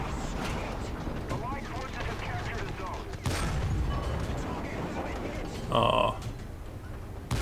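Tank cannon fire from a Panzer III Ausf. J1 German medium tank in the War Thunder video game: broadband gun blasts and a loud metallic report near the end, amid constant engine and battle noise, with a voice briefly.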